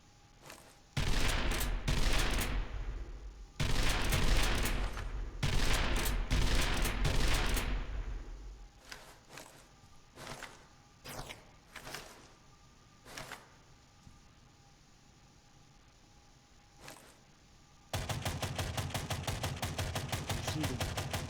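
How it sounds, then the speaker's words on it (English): Gunfire from a pump-action shotgun in the video game Angels Fall First comes in sharp, rapid bursts, first dense and loud, then scattered single shots, and finally another steady run of fire. "So this is obviously a pump action shotgun."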